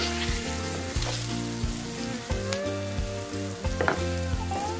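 Stuffed okra, bharwa bhindi, frying slowly over low heat in a pan: a steady soft sizzle with occasional crackles and stirring scrapes, fairly quiet and continuous.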